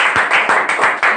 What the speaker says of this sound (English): please clap for my sir.